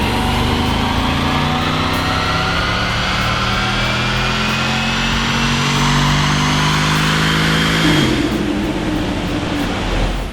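A Jaguar XJR engine in for a 650 conversion revs hard and steadily on a dyno, a loud continuous drone whose pitch climbs through the run before it drops off sharply near the end.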